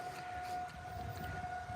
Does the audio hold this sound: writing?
no